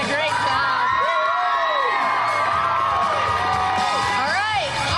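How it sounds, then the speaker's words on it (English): A middle school crowd at an outdoor superhero stunt assembly cheers loudly, with high children's shouts and whoops rising and falling in a dense, continuous roar. "Another round of applause for these guys."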